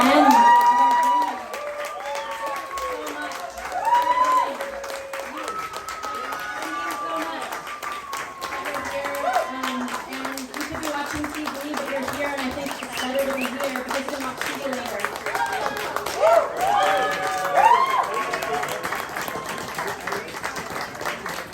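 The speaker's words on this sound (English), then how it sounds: "Applause going. Keep it going." An audience at a poetry reading claps and cheers in sustained applause, steady throughout with swells of louder clapping, while voices and talk carry along under it.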